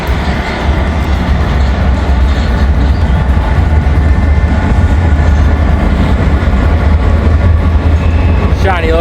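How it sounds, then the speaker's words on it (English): An empty Norfolk Southern continuous welded rail work train rolls past close by, a steady loud rumble of wheels and cars that holds for the whole stretch without pause. "We got a empty, continuous welded rail train, a work train here for Norfolk Southern."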